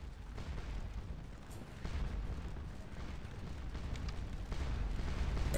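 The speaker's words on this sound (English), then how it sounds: "Artillery." Distant artillery fire rumbles across a battlefield in Scourge of War Waterloo, a strategy game set at the Battle of Ligny, as a steady low roar of booms with scattered sharper reports builds in loudness over the few seconds.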